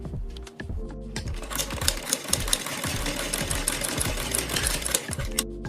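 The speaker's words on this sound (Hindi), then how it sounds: "मोड़ के यहाँ पर हम एक सिलाई लगाएंगे" Sewing machine running steadily as it stitches a folded fabric neckline, a loud continuous rapid mechanical rattle of needle strokes lasting throughout, with no talking.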